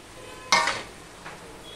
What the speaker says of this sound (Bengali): এই অবস্থায় আমি এই যে ম্যারিনেট করে রেখেছিলাম মাছটা সেটা আমি দিয়ে দিলাম